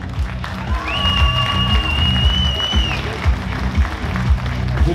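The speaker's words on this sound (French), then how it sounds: "félicitations à lui, on l'applaudit." An audience applauds and cheers the winner at an amateur bike show contest, with dense clapping and crowd noise under a pulsing beat and a whistle-like tone.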